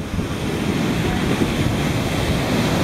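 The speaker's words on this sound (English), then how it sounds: "The ocean's just really having a heck of a time." Ocean surf rolls in on Boca Catalina Beach in Aruba, a loud, continuous broadband roar of waves mixed with gusty wind buffeting the microphone, with no break in the wash.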